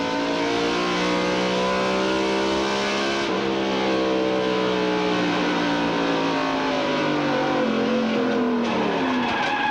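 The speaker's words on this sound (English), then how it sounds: "Now here is Earnhardt's spin from his roof can." A NASCAR Winston Cup stock car spins out at Richmond International Raceway, its engine wailing in long sliding pitch sweeps, loud and continuous, with tire scrub and roar from the car throughout.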